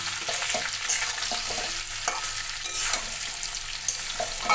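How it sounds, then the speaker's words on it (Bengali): Pieces of mango with turmeric sizzle in a pan while being stir-fried for pickle, steady frying hiss broken by repeated scraping stir strokes, close and alone. "দিয়ে ভালোভাবে কষিয়ে নিতে হবে যতক্ষণ আমটা সিদ্ধ না হয়।"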